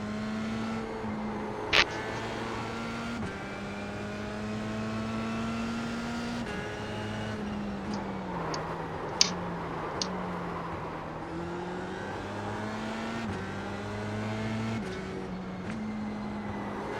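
A Formula C (F3) race car engine in a video game, lapping the Spa circuit: a steady, loud buzzing drone that climbs in pitch and drops sharply at each gear change, repeating through the run with no talking.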